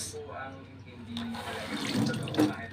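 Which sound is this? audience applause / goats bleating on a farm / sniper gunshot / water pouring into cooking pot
water pouring into cooking pot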